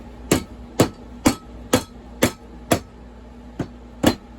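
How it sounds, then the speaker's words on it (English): A hammer taps metal on a STIHL MS460 chainsaw nine times at an even, unhurried pace, each strike a sharp ringing clink, close and alone. "we're going to escalate from the punch to a hammer"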